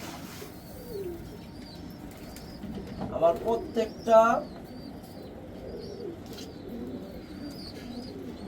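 Pigeons in cages coo softly in a few short bursts near the middle, low and muffled beneath a steady background murmur; a voice speaks briefly.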